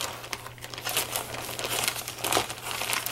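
A plastic craft bag being handled close up, with continuous crisp crinkling and rustling in irregular bursts throughout.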